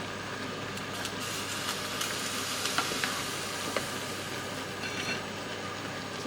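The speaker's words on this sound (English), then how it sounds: "Something's over boiling." A pot of beetroot dye boils over onto a hot stove, giving a steady crackling sizzle with scattered sharper pops throughout, close and continuous with no voices.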